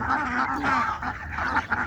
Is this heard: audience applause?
no